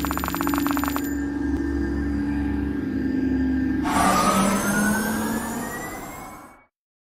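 An ambulance siren in the video game Kick the Buddy wails loudly and continuously over an engine-like rumble, its pitch sweeping upward before it cuts off near the end, with no talking.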